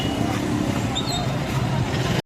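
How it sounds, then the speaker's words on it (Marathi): Congested road traffic with many vehicles queued on the way to a dandiya event in Purnanagar, Chinchwad, a continuous loud rumble of engines and road noise, ending in a brief cut. "हे गाड्या बघा कसल्या गाड्याची गर्दी कुठपर्यंत गाड्या लागल्या"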